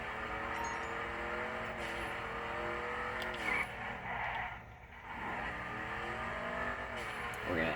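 Video game car engine driving fast, a steady revving drone with rising and falling pitch sweeps, close and loud, with a voice talking over it throughout.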